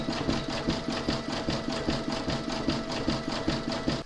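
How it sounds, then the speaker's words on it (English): An embroidery machine satin stitches around the border of an in-the-hoop medical rescue pouch, giving a steady, fast, evenly pulsing mechanical hum with a regular needle rhythm throughout. "We're now going to do the satin stitching around the border"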